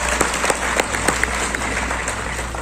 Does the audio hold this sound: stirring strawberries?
no